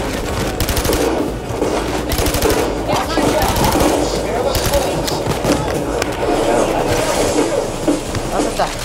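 Dense automatic gunfire from a Payday 2 heist shootout, rapid cracks and bursts piling on top of each other for the whole stretch, loud and constant, with players talking over the chaos.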